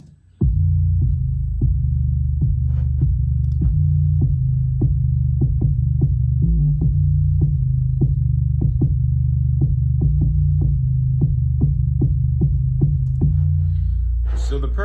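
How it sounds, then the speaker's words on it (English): An 808 bass drum pattern in a hip-hop beat thumps in a busy, syncopated rhythm of deep booming hits with long sustained low tails, loud and alone throughout. "I added an 808."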